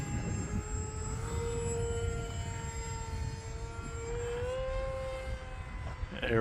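A HobbyZone Aeroscout RC plane flies in gusty wind, its electric motor holding a steady, droning whine that bends in pitch near the end over a low, rumbling wind noise.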